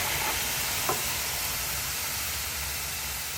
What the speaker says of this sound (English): We have to add this quail meat to this very hot pan.